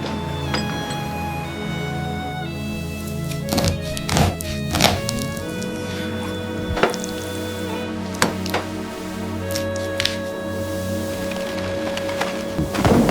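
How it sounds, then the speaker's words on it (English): Cut pieces of giant stingray meat are thrown into a barrel aboard a fishing boat, producing repeated heavy thunks and clinks at irregular intervals, close by over a steady hum of engine and water noise. "thrown into the barrel with a thick thump that you can almost feel both the weight and the coldness of it"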